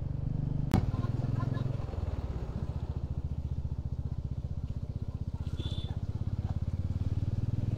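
Motorcycle riding a mountain road in Nepal past landslide damage, a steady pulsing engine drone heard close with a sharp click near the start.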